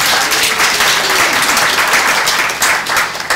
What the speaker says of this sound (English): I do want to give you a round of applause